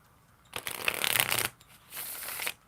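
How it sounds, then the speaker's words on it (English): A large deck of playing cards is bridge shuffled: a bright riffling burst about a second long, followed after a short gap by a softer second riffle as the cards cascade back together, close and clear with no talking. "I know somebody was like, don't bridge shuffle."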